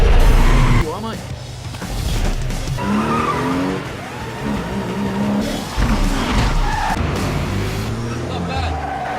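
A car pulls away and skids in a movie scene, tires squealing under a busy, loud mix with voices and score-like sound throughout.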